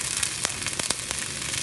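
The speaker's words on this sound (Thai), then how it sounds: "ผัดให้หอมเลยครับ" Garlic chives stir-frying in a pan with bamboo shoots and garlic, a steady hiss of sizzling oil broken by a few soft clicks and scrapes of the spatula, close and alone with no voices.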